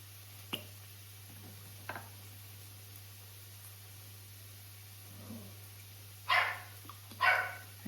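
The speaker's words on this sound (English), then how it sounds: "There's my puppy playing in the background again." A Bichon puppy barks a few times while playing in a home kitchen, short sharp yips that are faint at first and then louder, with long quiet stretches over a steady low hum.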